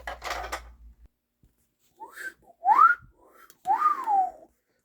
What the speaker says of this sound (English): I can't whistle tonight for some reason.